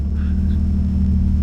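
Steady low engine rumble from a 2021 Ford F-150 Raptor Gen 3 truck on a dirt trail, a continuous close drone with no voices.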